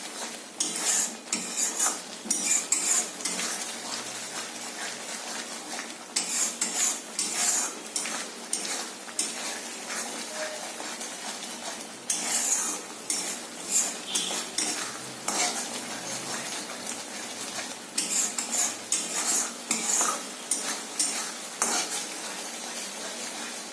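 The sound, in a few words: stirring egg beresta in a pan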